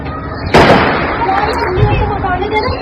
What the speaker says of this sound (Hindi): गोलियों की आवाज आएगी।